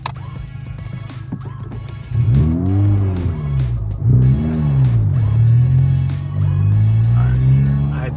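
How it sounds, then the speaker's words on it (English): A Honda Civic Type R (FL5) engine idles, then revs up sharply with rising and falling pitch sweeps, surging repeatedly before holding a loud, steady roar as it launches in first gear. "I definitely revved it way too high."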